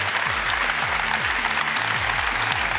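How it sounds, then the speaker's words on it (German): A television sports studio audience applauds a new women's national football coach, a dense, steady wash of loud clapping from a large crowd filling the whole moment. "Das ist Ihr Applaus."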